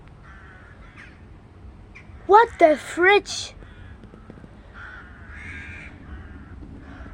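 A flock of ravens in Germany gives three or four loud, harsh caws in a quick burst midway, over a low outdoor background hum, with people talking nearby.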